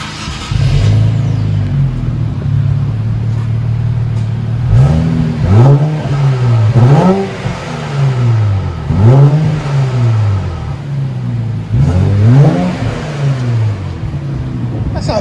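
Infiniti Q60 with a 3.0L V6 and straight pipes revving hard and close, with repeated deep rising and falling rev sweeps over a steady rumbling idle, about five bursts spaced a couple of seconds apart.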